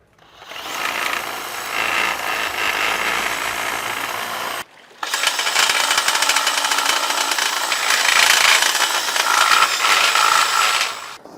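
A diamond carbide tip drill bit bores steadily through a metal boat anchor, a loud, continuous grinding whine that cuts out briefly near the middle and then resumes at full strength.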